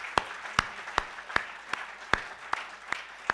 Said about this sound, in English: Let's give a big round of applause for Governor Yasutomo Suzuki,